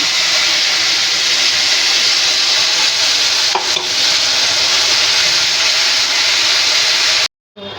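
A paste of onion, garlic, green chili and cashew sizzling in a hot pan, a loud, continuous frying hiss that cuts off abruptly near the end, with no voices.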